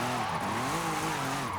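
A rear-wheel-drive Audi RS5 drifts in the Forza Horizon racing game, its tires squealing loudly over a steady engine drone whose pitch wavers as the car slides, with no talk.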